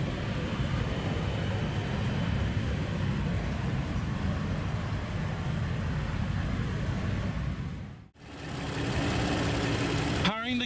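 A 2016 Audi Q7 with a 3-liter supercharged V6 runs steadily at a loud, close, even idle for about eight seconds, then cuts out briefly and returns with a sharper burst near the end.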